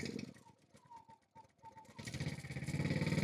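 A generator engine cranking and starting up to power a PowerSmart 6-ton electric log splitter in a wood yard, faint sputtering giving way to a steady rising drone as it catches.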